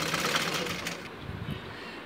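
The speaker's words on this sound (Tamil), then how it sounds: "மடிச்சுட்டு ஒரு தையல் போட போகிறோம்." A sewing machine stitches a folded edge of fabric on boys' shorts, giving a brief, continuous and fairly loud stitching run.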